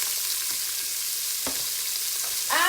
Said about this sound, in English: And into this pot now is gonna go my onion.